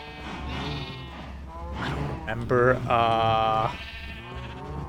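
Sheep in Minecraft bleat over and over, loud and close, with a long wavering bleat near the end while someone talks over them.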